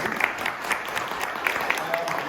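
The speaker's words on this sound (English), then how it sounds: "So a big round of applause for you." Audience applause at a ribbon-cutting ceremony, a steady patter of many hands clapping at moderate volume for a couple of seconds, with faint voices mixed in.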